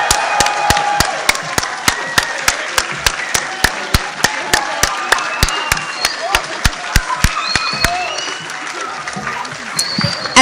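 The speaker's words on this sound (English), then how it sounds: "can we get a little excited cheering for our graduates?" A crowd at a nursing poster and pinning ceremony applauds graduates with steady rapid clapping and scattered cheers, one prominent clapper close by, while voices mingle underneath.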